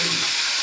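Loud, close sizzling and crackling of spices and curry leaves frying in hot oil in a pan, a steady hiss throughout the brief moment.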